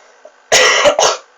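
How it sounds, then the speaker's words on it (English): Two harsh, close coughs come in quick succession, a longer burst followed by a shorter one, loud against near silence. "Had to cough."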